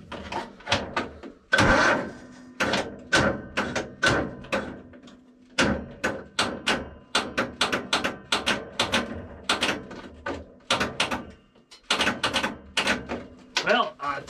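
An old Craftsman snow blower engine cranks over and over without catching, a weak-battery starter churning in rhythmic, loud repeated bursts with short pauses, and a voice now and then.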